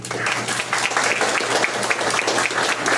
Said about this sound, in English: So, clap for number 1.